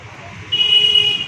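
A steady, bright electronic horn tone from a Bajaj Avenger Cruise 220 motorcycle starts midway and holds for under a second, over low engine rumble and road noise.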